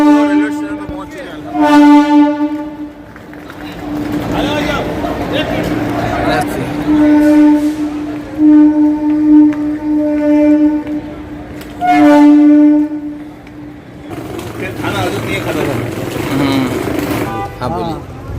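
A train horn sounds at a railway station in several long, loud blasts with pauses between them, over steady rumbling and crowd noise, and voices talk throughout.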